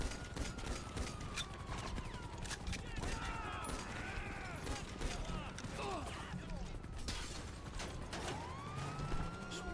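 Gunfire crackles through a noisy GTA V police chase, with rapid shots over dense engine roar, wailing sirens and clanking mechanical clatter, all loud and continuous.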